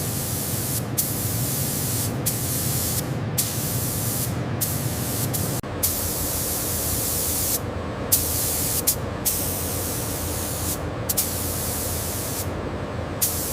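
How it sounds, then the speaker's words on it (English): A heated roller machine runs over fur-covered hide in a factory, giving a steady loud hiss like spraying steam, with short regular dips in the noise as it passes. "A heated roller machine passing over the fur, giving it a silky, glossy shine that reflects the factory lights."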